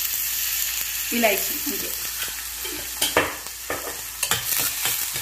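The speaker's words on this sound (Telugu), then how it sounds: "ఆనియన్స్ కొంచెం ఫ్రై అవ్వాలి" Onions frying in a pan for brinjal masala, a steady close sizzle with scraping stir strokes and light clinks of the spoon, while someone talks over it.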